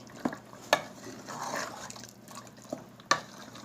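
Potatoes being stirred and mixed in a cooking pan for aloo palak, with a few sharp spoon clacks against the pan over a faint sizzling hiss, close and fairly quiet, no voices.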